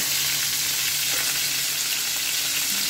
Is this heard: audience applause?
no